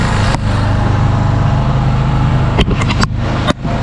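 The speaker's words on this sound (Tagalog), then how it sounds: "mapapansin ninyo, ito yung galawan ng makina ng CT150 natin." A newly activated Kawasaki CT150 Bajaj motorcycle engine idling at a slightly high idle, a loud continuous low rumble close by, broken near the end by a few sharp knocks or clicks.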